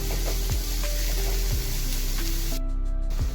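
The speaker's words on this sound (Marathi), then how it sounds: "आता आपण त्यात कांदा टाकत आहोत. आणि परतून घेत आहोत." Onion sizzles steadily as it is sautéed in a pan, a continuous close frying hiss with occasional scraping stirs and a few short utensil knocks, no voices heard.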